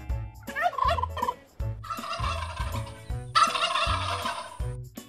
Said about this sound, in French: Dinde.